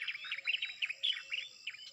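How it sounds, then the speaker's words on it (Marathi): Birds chirp and tweet in quick repeated bursts, high-pitched and fairly close, with a faint steady insect-like whine underneath and no talking. "बघा पक्ष्यांचा चिवचिवाट एकदम भारी वाटाली"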